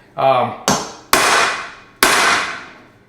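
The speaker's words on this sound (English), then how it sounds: "give it 1 tap. That'll start the peen, if you will." A hammer striking a punch to peen a rod end, three sharp metallic taps with ringing decay, close and loud, after a brief voice at the start.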